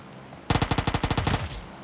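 Rapid automatic gunfire from PUBG Mobile rattles out in a fast burst of about a dozen evenly spaced shots, loud and close, with no speech.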